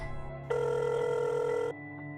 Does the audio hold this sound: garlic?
no